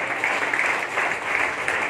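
Congregation clapping hands together at a church Sunday service, a dense steady wash of applause from many people that continues throughout.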